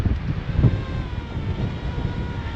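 Low, steady mountain wind on the Loch Vale Trail in December, rumbling and buffeting the microphone, with soft gusts rising and falling throughout and no voices.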